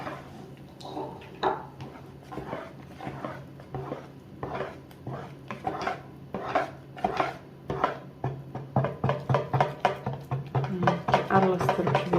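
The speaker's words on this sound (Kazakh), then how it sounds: "Енді тез-тез араластырып жібереміз жақсылап." Pancake batter is stirred briskly in a bowl right after hot water is poured in, producing a close series of rhythmic clinks and scrapes that grow quicker and denser toward the end over a low steady hum.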